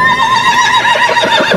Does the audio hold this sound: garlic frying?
no